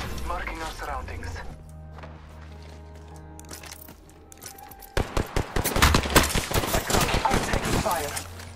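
Gunfire in an Apex Legends match: quiet game ambience at first, then bursts of rapid shots and sharp cracks break out loudly in clusters over the final seconds, with voices talking over the action.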